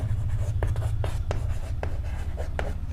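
Writing on a board during a Class 10 maths lesson: short, scratchy strokes come in a loose rhythm, close and clear over a constant low hum, with no speech.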